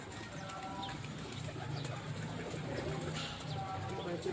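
Pet pigeons cooing on a rooftop loft at dusk, soft low repeated coos from several birds close by, with faint chirps and background ambience.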